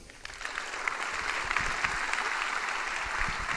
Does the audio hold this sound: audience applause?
yes